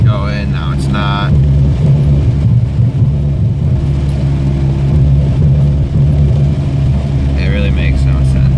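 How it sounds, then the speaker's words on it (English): A car engine idling with a heavy, steady low rumble that stumbles and cuts out when given gas instead of revving cleanly, close up, with a person talking over it. "So if I give it gas, you really can't see that, but it's like cutting out."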